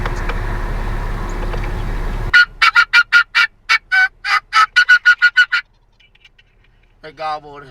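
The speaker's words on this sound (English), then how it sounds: "They gobbled." Wild turkeys gobble in a rapid burst of loud, close, stuttering calls that follows a stretch of rumbling noise, then falls quiet before a brief, faint voice at the end.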